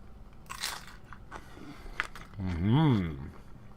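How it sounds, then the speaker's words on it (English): Crunchy tortilla chips topped with a Chipotle bowl being bitten and chewed up close, a few crisp crunches building to a louder chewing burst near the end, with a voice briefly audible. "they want the audience to hear me eating food"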